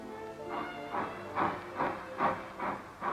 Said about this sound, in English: Here's a freight train pulling out.